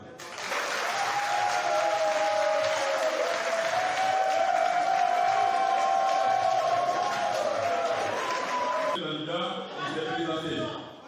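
A large assembly at a sports club's elective general meeting in Sinfra applauds in acclamation, sustained loud clapping with cheers and a held whistle-like tone running through, then fading into a murmur of voices near the end.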